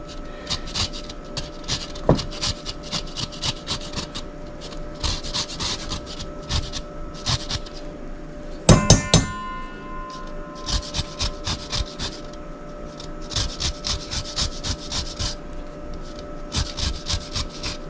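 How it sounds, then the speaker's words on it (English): A lemon is rubbed against a zester in quick, rhythmic rasping strokes, close and steady, with a brief clatter partway through. "You're going to do your lemon zest."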